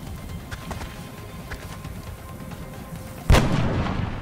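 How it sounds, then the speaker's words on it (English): A single sharp sniper rifle shot in the video game XCOM cracks out loudly over quiet game ambience, followed by a lingering rumbling tail. "Just need a good old sniper shot."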